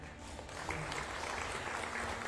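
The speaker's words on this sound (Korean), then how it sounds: "큰 박수 부탁드립니다" Broad, sustained audience applause rises at a Korean national veterans and bereaved-families award ceremony, a continuous crowd of hands clapping that swells slightly and holds steady.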